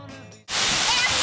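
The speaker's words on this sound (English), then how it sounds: "It's a 125-meter waterfall, the biggest one on the island, and it's not really fed by anything." A 125-meter waterfall on Lombok, Indonesia, roaring as a dense, steady wash of broadband noise that cuts in abruptly after a brief quieter moment and holds loud and close to the end.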